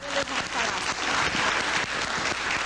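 An audience claps in a dense, continuous wash of applause, fairly loud and close, holding steady throughout.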